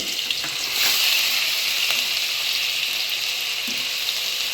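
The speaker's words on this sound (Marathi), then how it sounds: "आता आपण त्याच्यात हिरवी मिरचीची आलं हिरवी मिरचीची पेस्ट टाकत आहे" Green chili and ginger paste sizzles in hot oil in a kadhai, a steady bright frying hiss, close and fairly loud, with a few faint scrapes and no talking.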